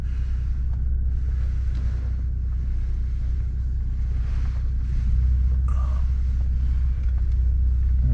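A truck drives along a residential street in Washington, D.C., its steady low engine rumble and road noise running continuously throughout, with some wind buffeting and no talking.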